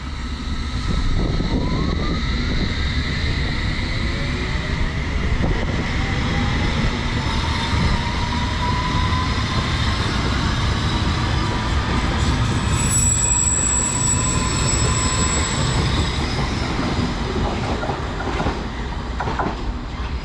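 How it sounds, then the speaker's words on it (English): A Chiltern Railways train pulls out of a station on the Marylebone-Aylesbury line with a steady rolling rumble and long high wheel squeals that rise and fade, near and without any talk. "So there it goes."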